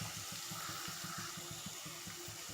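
Half a glass of water is poured into a pan of drumstick curry, giving a soft, steady splashing stream with a quick rhythmic pulse, faint and close.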